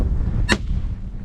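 A single sharp shotgun blast fired at ducks in a snowy field during a blizzard hunt, close and loud, cracking once midway and fading quickly over wind noise.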